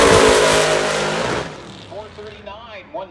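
A drag racing car makes a solo pass at the Rocky Mountain Nationals, a loud close engine roar that fades quickly down the track, followed by a track announcer's voice.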